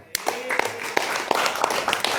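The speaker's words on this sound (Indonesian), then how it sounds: "Tepuk tangan." A small group clapping hands in a sparse, uneven burst of separate claps during a religious lecture, close and brief.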